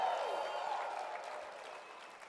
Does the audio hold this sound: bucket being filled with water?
no